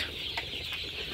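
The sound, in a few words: chickens clucking on a farm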